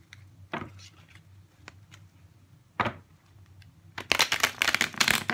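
Tarot cards are shuffled close by: a few separate soft riffles and slaps, then a longer burst of rapid riffle shuffling at the end.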